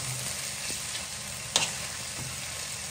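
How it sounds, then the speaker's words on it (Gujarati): Potatoes and gravy sizzle on a hot tawa for Mumbai-style tawa fry masala pav, a steady close frying hiss with a brief clatter partway through and no speech. "અને મુંબઈ સ્ટાઇલ જે તવા ફ્રાય આજે બની રહ્યા છે"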